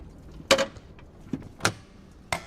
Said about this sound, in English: And the door will shut.